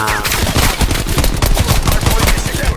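Rapid bursts of gunfire in Call of Duty: Black Ops Cold War rattle off in quick succession, loud and close, with the shots coming in uneven clusters.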